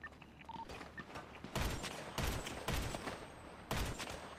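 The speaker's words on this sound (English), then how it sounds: "They're shooting at me. They got guns." Gunfire in the video game GTA V: several loud, sharp broadband shots and short bursts at irregular intervals over a busy game background.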